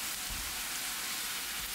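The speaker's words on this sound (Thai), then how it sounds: "จากนั้นผัดไฟแรงรอจนพริกชี้ฟ้ากับใบกะเพราสุกก่อนครับ" Red chillies and holy basil stir-frying over high heat in a pan, giving a steady, dense sizzle that holds evenly throughout, close and moderately loud with no talk.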